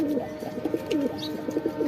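A pigeon kept at home coos in a run of soft, repeated low calls, close by and fairly quiet, with no voices.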